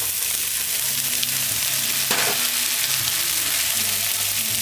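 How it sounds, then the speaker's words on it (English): Macaroni sizzles in a pan with sautéing onion, frying steadily and loudly with a brief stirring scrape partway through. "I'm going to add the macaroni"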